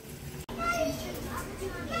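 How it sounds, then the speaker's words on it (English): Children shriek and play in the background, high excited voices and squeals rising and falling over about two seconds, with a brief cut in the middle. "Y'all hear my kids screaming?"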